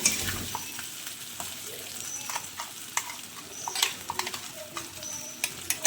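Fish frying in a pan with spice paste of ginger, garlic and chilli going in, a steady close sizzle broken by scattered sharp crackles and spatters throughout, with no talk.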